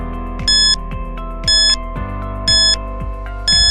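A quiz countdown timer loops a steady ticking tone pattern with a bright chime-like beep roughly once per second, loud and alone.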